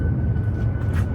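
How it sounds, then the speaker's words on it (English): Airplanes flying overhead, a steady, continuous engine rumble heard from the ground with no voices. "Oh look, planes."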